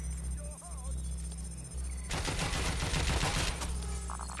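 Gunfire erupts in Watch Dogs: Legion, a dense, rapid burst of shots lasting about a second and a half under a steady low game hum, with voices from the game heard beforehand.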